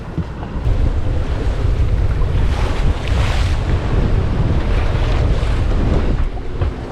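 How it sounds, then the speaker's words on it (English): Wind roars and waves slap around a sailboat on a beam reach in 20-25 knot winds, crossing open water off the north tip of Samsø toward Grenaa, Denmark; loud, steady buffeting with constant rushing water and no voices. "So we are out a little more waves and a little more wind."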